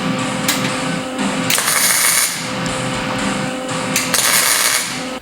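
Tack welding on a car subframe being notched for a rear-wheel-drive swap, with steady crackling, hissing arc bursts that flare loudly in several separate passes close by.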